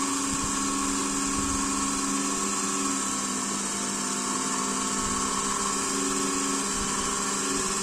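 Steady electric whine of a separately excited DC motor fed by a dual converter drive, running loaded at about 1 ampere near 1100 rpm, with a constant tonal hum and buzz holding throughout.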